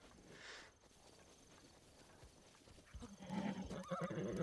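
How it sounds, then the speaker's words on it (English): A horse in Zelda: Breath of the Wild neighs briefly near the start, then hooves clatter louder toward the end over a steady game background. "How dare you hit my horse?"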